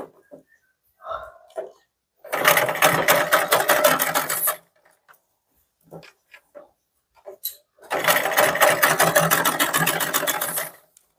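Sewing machine stitching a kurti in two loud, fast bursts of rhythmic whirring and clatter, separated by quiet pauses with small clicks and handling noises.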